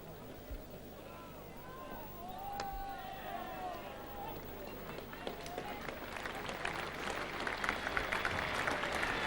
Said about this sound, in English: Applause for the 50 partnership between Alan Border and Kim Hughes